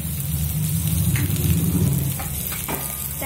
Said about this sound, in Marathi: आणि कढईला थोडं तेल सोडूया।